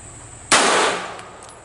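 A single sharp handgun shot at target practice, cracking loudly out of a quiet background and ringing off in a short decaying tail.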